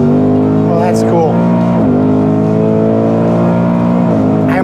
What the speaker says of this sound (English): I almost want to shift it going down the track now because it does it when you want to do it